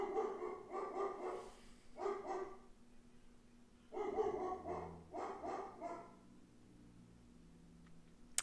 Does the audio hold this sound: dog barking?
yes